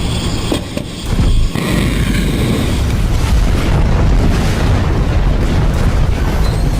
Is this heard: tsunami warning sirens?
no